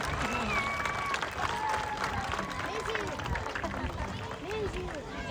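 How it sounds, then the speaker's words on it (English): Audience applause at a sea lion show, broad clapping and crowd noise mixed with squeaky whistle-like tones and a voice talking over the top. "can we give her an even bigger round of applause?"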